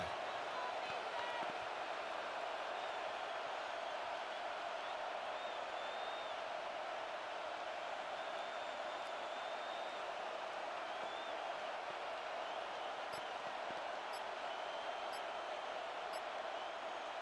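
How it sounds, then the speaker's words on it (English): A stadium crowd in the Madden NFL 26 football video game keeps up a steady, dense roar of cheering before a big third down, constant and unbroken throughout. "The crowd getting into it as we come up on a big third down."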